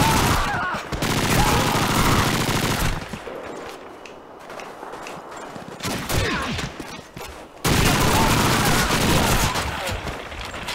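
Heavy automatic gunfire from the World War II shooter Call of Duty 2, Soviet winter campaign, roaring in loud sustained bursts with a brief lull of scattered shots and distant explosions midway, plus occasional voices.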